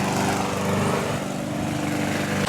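A Toro lawn mower mows tall zoysia grass, its engine roaring loud and steady right up close for the whole stretch.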